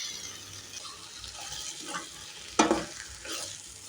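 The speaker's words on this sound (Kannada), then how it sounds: "ಮೆಂತ್ಯ ಸೊಪ್ಪು ಹಾಕಿದ ನಂತರ 1-2 ನಿಮಿಷ ಚೆನ್ನಾಗಿ ಹುರ್ಕೊಳ್ಳಿ ಎಣ್ಣೆಯಲ್ಲಿ" Fenugreek leaves fry and are stirred in hot oil for a North Karnataka palya, giving a steady close sizzle broken by a few sharp scraping stirs near the end.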